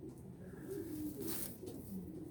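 A tort grizzle racing pigeon with white underwings, an old tagged bird, coos softly in a low, rolling murmur, close by, with faint background noise and no talk.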